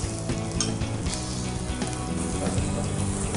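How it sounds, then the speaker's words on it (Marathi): Chopped onion frying in a little oil in a pan gives a steady, close sizzle, with occasional light stirring clicks running underneath. "थोडंसं तेल, त्याच्यानंतर त्याच्यामध्ये आपण थोडासा कांदा घालणार आहोत"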